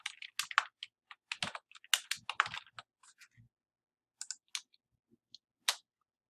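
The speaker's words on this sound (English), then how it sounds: "You will type your name here." Fingers type on a computer keyboard, a close, crisp run of quick key clicks in uneven bursts with short pauses between, then a few scattered final taps, heard alone with no talk.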